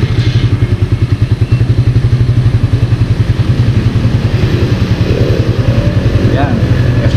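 A motorcycle fitted with a new RCB S-Series lithium ion battery idles after a push-button start, a loud close steady putter of rapid regular pulses that holds throughout with no talk.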